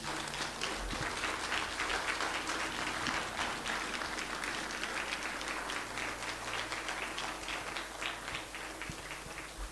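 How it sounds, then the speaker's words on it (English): Wedding guests applaud after the vows, a dense, steady wash of clapping that carries on at an even, moderately loud level from start to finish. "Give her a clap, come on."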